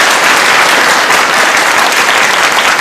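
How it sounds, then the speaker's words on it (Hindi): A crowd at a Netsurf business success event bursts into loud, dense, continuous applause for the Naturamore product line, with no one speaking over it. "हमारे नेचुरामोर के लिए एक बार जोरदार ताली होनी चाहिए"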